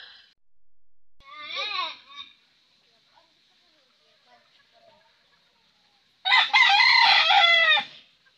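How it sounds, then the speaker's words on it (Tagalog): Pet chickens, with one cluck-like call early on, then after a quiet gap a loud, close rooster crow lasting over a second, heard alone without talk. "Alagang manok."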